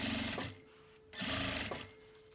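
A sewing machine stitches a teddy fleece jacket in two short, close bursts of rapid mechanical whirring, with a quiet pause between them and no talk.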